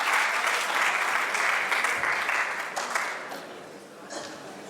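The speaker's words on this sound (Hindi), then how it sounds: "एक बार जोरदार तालियां होनी चाहिए युवराज के लिए।" A crowd at a college fest claps loudly and steadily, the applause gradually thinning and fading toward the end.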